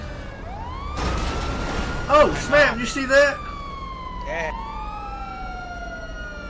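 A police car siren in the video game GTA 5 wails steadily, rising and falling across the whole stretch, with a short burst of faster yelping partway through, while people talk over it.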